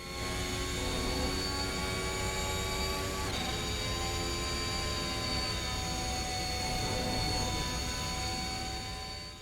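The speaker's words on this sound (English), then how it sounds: "the sound also seems to be based on the Renault engine" Renault-based Formula hybrid engine in an Alpine car mod for the racing game Assetto Corsa, a steady high-pitched whining drone with layered harmonic tones and a slight pitch shift partway, continuous and loud throughout.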